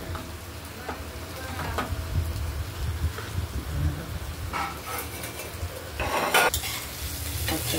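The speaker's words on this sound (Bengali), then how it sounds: "উচ্ছে কুমড়োটা ভাজা হয়ে গেছে" Bitter gourd and pumpkin sizzle in a pan while a spatula scrapes and stirs, with several sharp clattering stirs standing out over the steady frying hiss.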